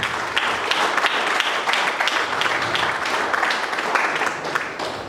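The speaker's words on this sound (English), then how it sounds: "please give a huge round of applause" A seated audience at a Toastmasters club meeting claps in sustained applause, a dense, fairly loud patter of many hands going steadily from start to finish with a few sharper individual claps standing out.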